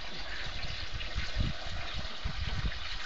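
Liquid poured into a mole hole in the ground, a continuous gurgling, burbling flow with low splashy bubbling, close and steady throughout.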